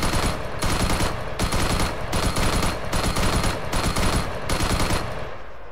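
A SAW machine gun in ArmA III firing full auto with no other fire modes, loud sustained bursts of rapid gunfire broken by short pauses, close and alone with no talk.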